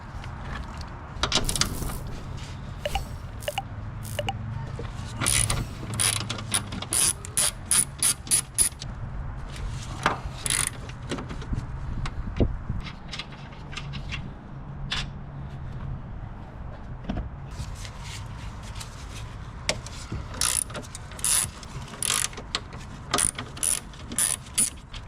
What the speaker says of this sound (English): I'm going to use a 15mm socket.